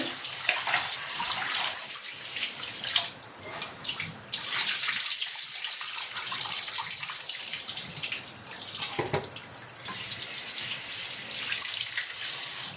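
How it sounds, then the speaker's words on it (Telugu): Chicken pieces are rinsed under a steadily running tap in a kitchen sink, with continuous splashing and gurgling water that shifts in tone as the pieces are handled, close and fairly loud throughout, with no talking. "ఒకసారి కడిగి పారబోసాక అప్పుడు మళ్ళీ ఉప్పు వేసి కడుగుతానండి."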